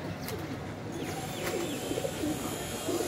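Pigeons cooing in soft, low, repeated calls, fairly close, with a few faint chirps and people talking in the background.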